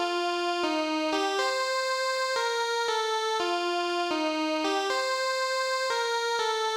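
Bright synth lead from a JD800 plugin using the single Syn Pulse 3 waveform with an almost fully open filter, playing a steady stepwise melody of sustained notes, buzzy and close, with no voices.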